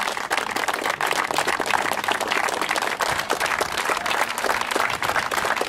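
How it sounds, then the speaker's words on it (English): A crowd at a testimonial rugby game applauds continuously, dense clapping filling the space at steady volume throughout, with no pauses. "Round of applause, make some noise"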